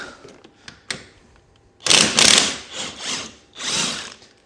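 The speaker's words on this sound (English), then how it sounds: "So we loosen this side, then loosen the other side just to make sure that through shaft isn't spinning." A ratchet loosens the rear shock bolts on a Polaris snowmobile, giving a few faint clicks followed by several loud, close bursts of rapid ratcheting separated by short pauses.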